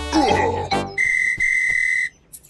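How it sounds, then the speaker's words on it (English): In a Peppa Pig cartoon, a referee blows a whistle at a ball game: one long, steady, shrill blast that follows a short burst of cartoon sound effects and stands clear and close. "Why are you blowing a whistle, Miss Rabbit?"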